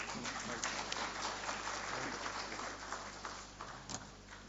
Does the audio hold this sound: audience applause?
yes